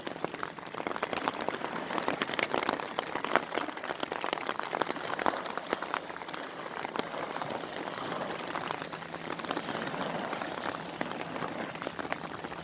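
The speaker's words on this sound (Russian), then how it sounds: "Дождь попер." Heavy rain pours steadily onto a surface in Yakutsk, a dense, even patter that fills the whole stretch without pause.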